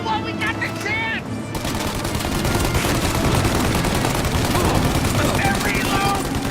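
Dense, loud machine-gun and rifle fire in the video game Mafia, rapid overlapping bursts that run almost without a break, with a brief shouted voice at the start.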